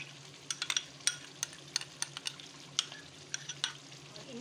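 Chicken with cream, white pepper, lemon, green chilies and spices being stirred in a pan, soft scraping stirs ticking irregularly over a faint steady sizzle, close and quiet with no talking.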